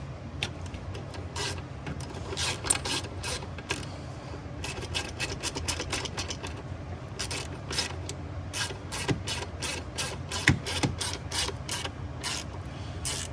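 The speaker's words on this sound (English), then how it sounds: "now you can tighten them a little bit. Don't over tighten them, they're obviously small bolts" Small bolts on the bank 2 VVT solenoid of a 2008 Ford F150 5.4 3V Triton are tightened with a hand tool, giving close, repeated ratchet clicks in irregular bursts over low mechanical background noise, with no talking.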